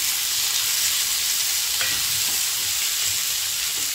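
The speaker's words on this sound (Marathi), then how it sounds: "आता त्यात आपला टमाटर लांब लांब चिरलेला टाकून घ्यायचा आहे" Chopped tomato sautéing with fried onions in a pan makes a dense, even hiss of frying at close range, with a few faint stirring knocks and no voices.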